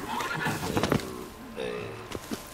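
Roach, the player's horse in The Witcher 3: Wild Hunt – Blood and Wine, lets out a loud, close whinny with rising, wavering pitch, followed by a shorter snort, set against in-game ambience.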